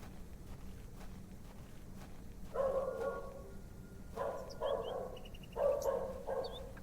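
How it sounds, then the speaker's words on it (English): A dog barks in short bursts of two or three in the video game The Excavation of Hob's Barrow, fairly faint over a quiet ambient bed with no talking. "A dog!"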